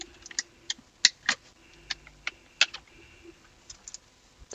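A computer keyboard is shifted and set back in place, giving a scattered run of close, light plastic clicks and taps at an uneven pace in a quiet room.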